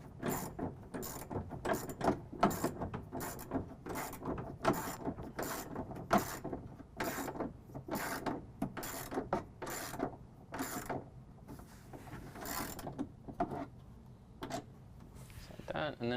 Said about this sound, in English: we're going to tighten down our J-bolts